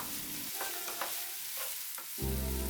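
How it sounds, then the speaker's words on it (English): Marinated paneer cheese dropped into a hot frying pan for chilli paneer and stirred, with a loud steady sizzle under several spoon scrapes and a surge of frying as more goes in near the end, no voices. "then we'll add the marinated cheese here in two parts"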